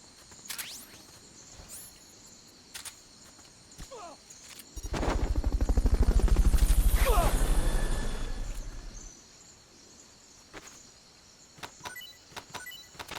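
A helicopter's rapid, throbbing rotor chop rises and fades over several seconds in Metal Gear Solid: Peace Walker, loud and rhythmic, set among sparse clicks and electronic game sounds.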